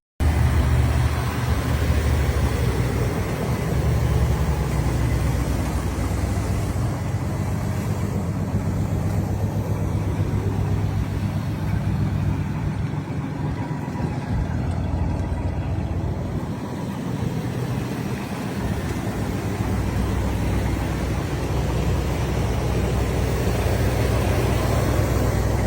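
A 1968 Oldsmobile Delmont 88 engine runs steadily at a low, even rumble for a long stretch, close and continuous with no break.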